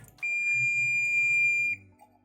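A single steady high-pitched beep from a multimeter's continuity buzzer checking the fuses of a power amplifier holds for about a second and a half, then cuts off, with faint low background noise around it.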